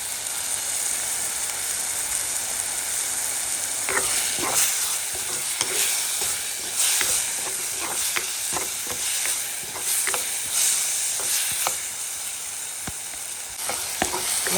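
Okra curry sautéing in a pan in a Jaffna home kitchen, a continuous oily sizzle broken by repeated scraping stirs and short clacks of a spatula against the pan, close and fairly loud, with no talking.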